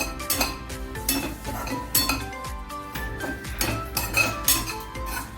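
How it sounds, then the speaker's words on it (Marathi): Grated dry coconut roasting in a pan over medium heat, a steady run of metallic scraping and clinking as a utensil stirs it, with sharp spoon-on-pan hits throughout and no voices. "हे खोबरं मिडियम गॅसवरती गोल्डन रंग येईपर्यंत भाजून घेते"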